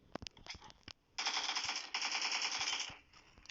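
Rapid automatic gunfire in the PUBG Mobile battle royale game: a few separate shots early on, then a loud sustained burst of fast repeating fire lasting nearly two seconds, close and dominant with no talking.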